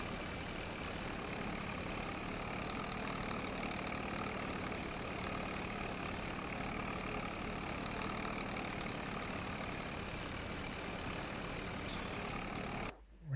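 Tractor engine in Farming Simulator 22, a 1960 vintage farming session: a steady, loud droning rumble holds throughout with little variation, cutting out abruptly near the end.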